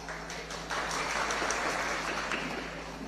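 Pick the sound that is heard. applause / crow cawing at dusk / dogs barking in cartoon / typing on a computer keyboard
applause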